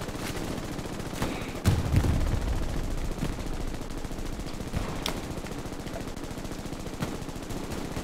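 World War II machine gun fire in Hell Let Loose, steady rapid automatic bursts with sharp individual cracks over a constant battlefield din, one heavier thump and scattered distant shots throughout.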